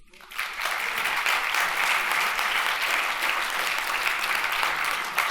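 Applause breaks out at the ANEM mayors' congress, rising quickly from quiet into loud, sustained clapping from a large hall audience that holds steady to the end.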